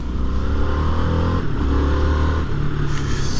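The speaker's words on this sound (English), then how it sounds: "you join me on board the 2021 Harley-Davidson Sportster S" A 2021 Harley-Davidson Sportster S rumbles steadily with its engine note shifting through revs while riding on Peak District roads, loud and close throughout with continuous wind noise.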